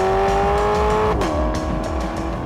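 A Maserati V8 revs hard with its exhaust turned all the way up, a loud rising engine note that breaks sharply at a gear change before building again, with tires briefly squealing.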